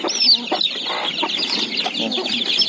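A hen clucks close by among backyard chickens in a short burst of repeated clucks with sharp squawky notes, loud and with no voices.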